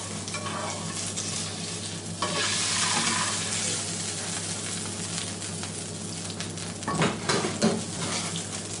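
Three pieces of salmon fry and sizzle in a pan, a steady close crackle with stirring and scraping, and a couple of louder clatters of the pan and utensils near the end.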